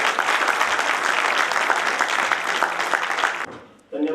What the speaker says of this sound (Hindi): जोरदार तालियों के साथ में स्वागत डॉक्टर पवन जी